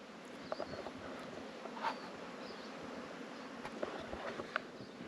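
Bees buzzing around a cave entrance, a steady insect drone with a few brief louder passes of individual bees close by, no voices.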